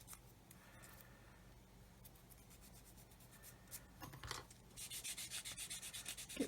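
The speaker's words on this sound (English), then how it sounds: "I'm just sanding these lumps away now so I can get it back nice and round." Sanding lumps smooth on a 1/24 scale Airfix F6F-5 Hellcat plastic model aircraft, a soft, steady close-up rubbing that turns into quicker, rhythmic back-and-forth strokes toward the end.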